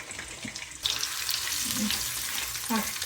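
Eggplant slices frying in a pan next to eggs, a steady broadband sizzle throughout that grows denser after the first second, with faint clinks and handling noises over it and no talking.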